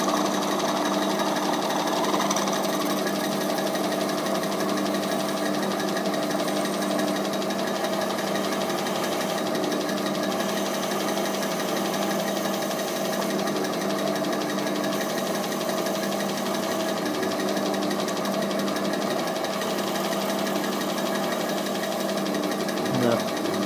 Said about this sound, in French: je vais essayer de percer un trou à l'intérieur, débouchant